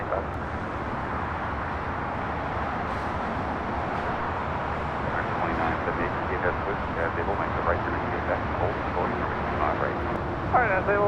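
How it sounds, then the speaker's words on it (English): A United Airlines Boeing 737-800 takes off on a busy airport runway at LAX, its engines giving a steady broadband roar that holds throughout with speech heard over it. "This is United Airlines 1621 taking off to Orlando on a 737-800."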